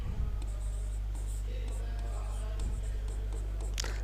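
Writing on a board during a biology lesson: scratchy strokes come in short bursts over a steady low electrical hum, with faint murmuring in the background.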